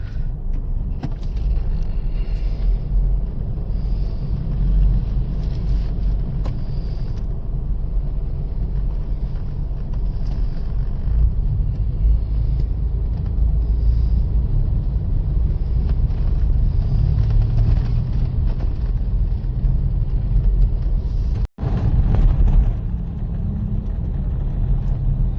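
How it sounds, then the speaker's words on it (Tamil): Road traffic in Pattaya, Thailand, rumbles as a steady low wash of passing cars and engines, continuous and fairly loud, with gusts of wind noise and a brief dropout near the end. "டிராஃபிக்"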